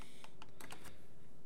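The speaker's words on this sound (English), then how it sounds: "And then we're going to hit Q on our keyboard." Computer keyboard keys tapped during 3D modeling work in Maya: a few quick, light clicks in a short burst, close and fairly quiet, then silence.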